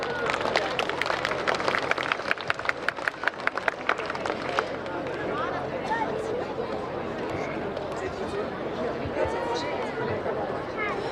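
Audience at a Ukrainian Independence Day concert in Centennial Park claps for the performers. Dense, steady applause fills the clip, with sharp claps standing out early and crowd chatter running under it.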